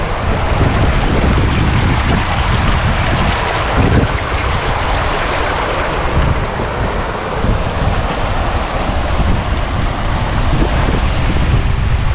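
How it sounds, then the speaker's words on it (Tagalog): River water pours steadily over a small concrete dam beside a new bridge under construction in Laurel, Batangas, a loud, dense, unbroken rushing wash with wind buffeting the microphone. "Dire-diretso yung tubig."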